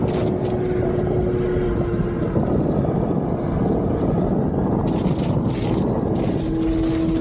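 A Waydoo electric jet eFoil motor runs flat out at top speed, a loud steady whir mixed with rushing water and wind buffeting the microphone, continuous throughout with no talk.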